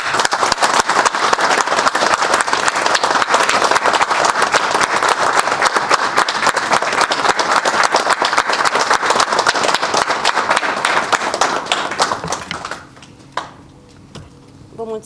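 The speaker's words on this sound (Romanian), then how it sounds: "vreau să o întâmpinăm cu un ropot de aplauze" Loud, dense applause from a crowd welcoming a mayoral candidate at a campaign launch in Onești, with steady clapping that fades out near the end.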